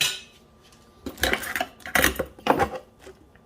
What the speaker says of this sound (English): Another set of measuring spoons.